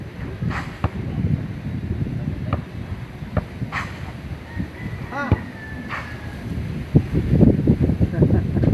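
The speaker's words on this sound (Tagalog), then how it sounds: "Dahil ang lakas ng hangin." Strong wind gusts outdoors during a shooting match, rumbling across the microphone in uneven surges that build louder toward the end, with people talking throughout.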